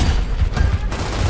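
Gunfire in the video game Gears of War, a loud dense burst of rapid shots and booms filling the whole short moment, with no talk.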